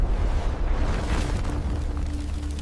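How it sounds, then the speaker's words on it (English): A massive, deep rumbling roar, loud and sustained, with heavy low-end turbulence like a huge explosion rolling on without letup. "a massive explosion"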